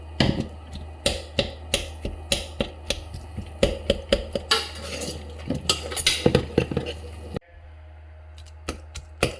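A small spoon knocking and scraping as cooked jackfruit is mashed and stirred in a pot, giving a run of sharp close taps over a low steady hum before a quieter stretch near the end.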